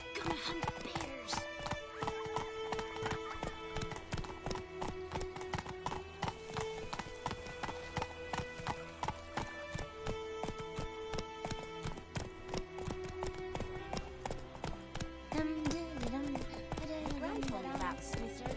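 A horse gallops in The Witcher 3, with continuous rhythmic clip-clop hoofbeats, occasional whinnies and snorts, and game music and voices running underneath throughout.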